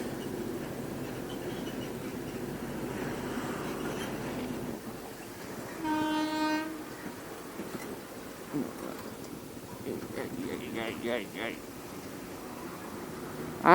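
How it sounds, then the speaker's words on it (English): A goods train rumbles past on a bridge with a low, steady rolling roar, a short horn blast in the middle and faint metallic squeals later. "And a goods train is also passing on the bridge."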